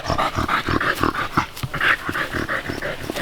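A dog, worn out from chasing a bear through dense mountain laurel and rhododendron on a hike in the Pennsylvania Wilds, pants hard and steadily with low growly, whiny breaths, loud and close.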